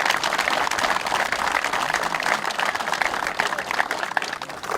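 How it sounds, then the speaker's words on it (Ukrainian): An audience applauds at a football tournament award ceremony in Lviv, with dense, steady clapping that holds at an even loudness for several seconds and no pauses. "Давайте ми поаплодуємо всім нам за те, що він відбувся."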